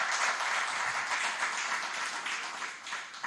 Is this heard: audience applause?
yes